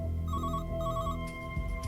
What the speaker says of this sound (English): But soon another call comes in from the same phone.